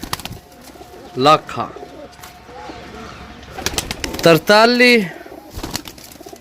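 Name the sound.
pigeons cooing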